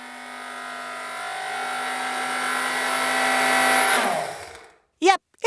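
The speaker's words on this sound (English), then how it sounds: "Yep, it's the blender." A kitchen blender whirs loudly and steadily, rising slightly before winding down to a stop, followed by two short electronic chirps.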